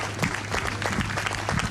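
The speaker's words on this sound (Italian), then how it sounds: "ecco il lungo applauso" Mourners at Ennio Doris's funeral give a long round of applause, a dense, loud patter of many hands clapping continuously without a break.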